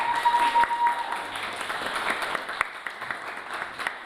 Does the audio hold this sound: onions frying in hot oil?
no